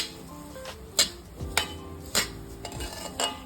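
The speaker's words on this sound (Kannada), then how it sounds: "ಈಗ ಒಂದು ಬೌಲಷ್ಟು ನಾನು ರವೆ ಹಾಕ್ತಾ ಇದ್ದೀನಿ ಈಗ ಇದನ್ನು ಸ್ವಲ್ಪ ಹುರಿತಾ ಇದ್ದೀನಿ" Semolina roasting in a pan for ragi idli, with a utensil scraping and clinking against the metal in irregular strokes and a few sharper knocks, close and fairly quiet, with no talking.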